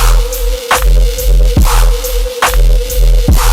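A sustained synth tone made in Serum holds steady and loud over a heavy electronic beat. Thumping kicks and snappy hits repeat in a tight rhythmic loop beneath it.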